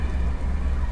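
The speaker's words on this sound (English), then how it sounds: "Oh, I hope the rain won't get worse." Steady rain pours outdoors at night, a dense, even hiss with a low rumbling undertone, continuous and fairly loud, with no voices.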